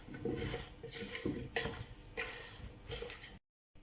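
A cook stirs potatoes and meat in a large pot with a spoon, making several close scraping, rustling strokes in an uneven rhythm, with no talk. A brief silence follows at the end.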